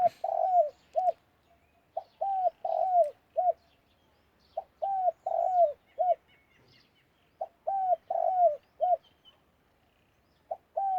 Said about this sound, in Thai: ขันดีครับนกตัวนี้ครับ